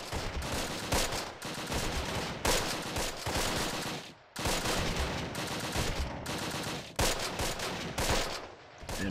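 Machine gun fire from an MG team in the World War II strategy game Close Combat: The Longest Day, with loud sustained bursts broken by short pauses, dense and continuous throughout.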